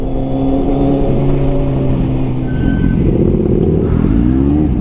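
Steady road traffic on Aguinaldo Highway near Tagaytay, with car and truck engines droning continuously up close and a vehicle accelerating, heard throughout without talk.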